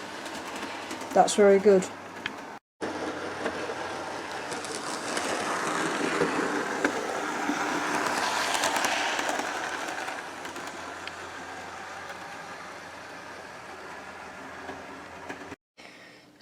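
A Hornby Railroad Plus Class 57 model locomotive runs along its track and over points with a steady, continuous rolling whir. Brief speech comes before and after the running.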